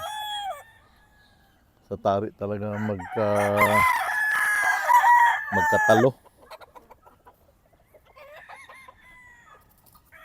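Gamecock roosters crowing loudly up close, one long cock-a-doodle-doo followed by scattered clucking, with someone speaking before and after the crow.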